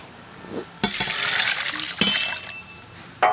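Foraged bracken fern being rinsed under running tap water in a kitchen, a steady close splashing stream with brief louder gushes and clatters as the greens are handled.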